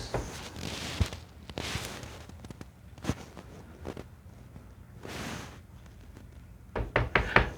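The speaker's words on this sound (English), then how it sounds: "My husband is knocking on the window." Someone knocks on a window of a house. A few sharp raps are spread across the stretch, then a quicker cluster comes at the end, over a quiet room with faint rustling.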